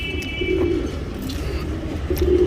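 Female pigeon in breeding condition, kept for tournament flying, cooing in close, clear low pulses at a steady pace, with faint outdoor noise behind.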